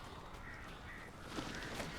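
Crows caw faintly amid a dense, noisy game soundscape in the video game Alan Wake, a few harsh calls standing out toward the end over steady ambient texture.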